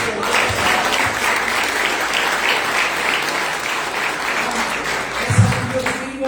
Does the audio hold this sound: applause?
yes